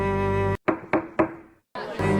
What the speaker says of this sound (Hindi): कुछ तो वैद्य जी के घर का दरवाजा तक पीट रहे थे।